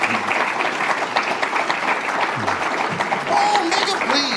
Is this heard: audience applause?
yes